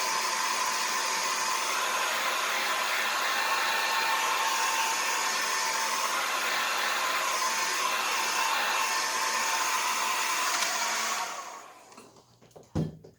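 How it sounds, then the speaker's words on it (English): Hair dryer blowing on wet finger paint, a loud steady whooshing roar lasting about eleven seconds before it switches off and winds down, followed by a small knock. "when you're using your hair dryer again, make sure you're moving it around so it doesn't get too hot in one spot"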